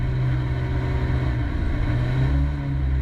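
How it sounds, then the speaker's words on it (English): Mini engine held at steady high revs for a noise check at an autotest event, a loud continuous droning hum with constant pitch, close and alone. "you've got to hold the engine at high revs"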